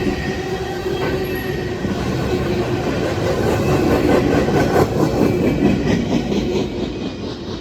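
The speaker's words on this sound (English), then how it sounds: "even though this rail train was empty, it was an especially good catch for me" An empty rail train rolls past on the W&A and Etowah subdivisions, a loud, steady rumble of wheels on track with rhythmic clicking joints and a faint high squeal, sustained throughout with no voices.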